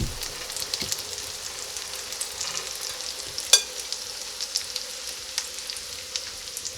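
Potato pancakes fry in a skillet with a steady, close crackling sizzle and scattered pops, including one sharp spatter midway, with no voices.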